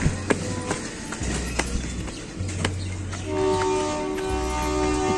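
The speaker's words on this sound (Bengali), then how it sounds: "ট্রেন ছাড়তেছে," A train pulling out of a station on the Pangsha to Rajbari line, heard from a nearby footbridge, with a steady low rumble, clanking rail noise and a long sustained horn blast rising in the second half.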